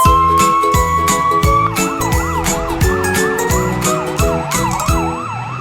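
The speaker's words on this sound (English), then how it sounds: "A police car. Wee woo! Wee woo!" A police car siren in a children's cartoon about construction trucks wails in a steady, rising-and-falling warble throughout, loud and close over jingly background music.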